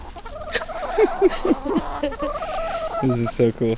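Several chickens on an urban farm cluck and murmur in short bursts nearby while a person speaks briefly over them.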